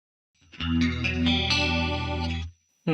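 An electric guitar chord with a digital chorus effect from AmpliTube 5 CS rings out shimmering and wavering, sustained for about two seconds before cutting off, with a new note starting at the end.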